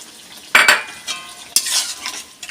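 A mixed vegetable sour curry made with tamarind water cooks in a pan, with a bubbling sizzle and two sharp bursts of spoon stirring and scraping, close by with no talking.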